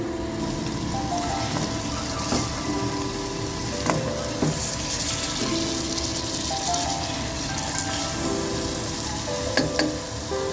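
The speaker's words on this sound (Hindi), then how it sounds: "अभी 1 मिनट और भूनेंगे हम इसको।" Masala for a potato and egg curry fries in oil as it is browned, giving a continuous close sizzle broken by occasional stirring scrapes and clinks from the pan.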